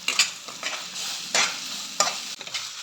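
Ghugni masala mixture with broken boiled potatoes frying in oil in a pan, a steady sizzle broken by several sharp scraping stirs, close and alone.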